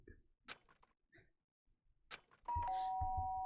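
Two-tone doorbell chime from a video game, a bright sustained ding-dong that rings out loudly after a short stretch of quiet mixed sounds and holds to the end.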